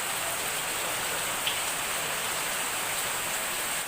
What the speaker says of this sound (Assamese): আমাৰ ইয়াত ইমান বৰষুণ দিছে